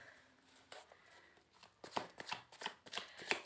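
Tarot cards shuffled and drawn by hand, soft quiet riffles at first, then a run of crisp, close snapping flicks and slaps as cards are cut and pulled from the deck.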